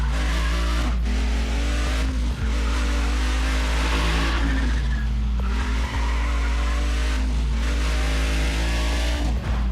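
A powerful race car in the Need for Speed ProStreet video game revs hard through repeated gear shifts, engine pitch climbing and dropping several times over a loud, constant drone with tire squeals.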